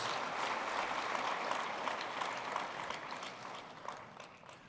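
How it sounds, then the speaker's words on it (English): Audience applause for National Security Symposium panels, a dense, even patter of many hands clapping in a hall, moderately distant and steady before easing slightly. "Please join me in giving a round of applause."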